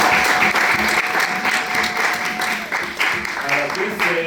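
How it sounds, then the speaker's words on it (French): A church congregation claps together at a Sunday service, a dense, lively wash of applause sustained throughout with voices mixed in. "Oh, applaudissons le Seigneur."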